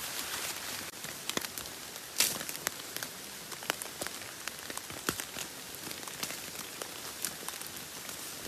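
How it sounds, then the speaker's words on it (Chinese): A heavy rainstorm lashes a bamboo forest on a mountainside: a steady dense roar of rain, punctuated by many sharp, close drips and taps striking leaves and stalks. "现在下起了大暴雨啊"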